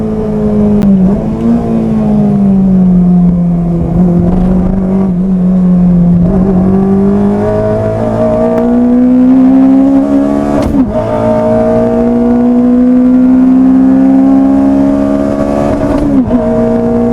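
A K20-engined Renault Clio 182 lapping a race track, its engine droning loudly and continuously close up, pitch rising and falling as it accelerates through the gears and lifts off.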